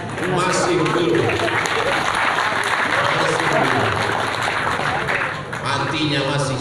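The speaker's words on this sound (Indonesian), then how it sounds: "Saya tahu jamaah tepuk tangan biar sedihnya hilang" A congregation at a Madura religious gathering bursts into sustained applause, a dense wash of clapping that stays loud and steady throughout with crowd murmur beneath, dipping briefly near the end before swelling again.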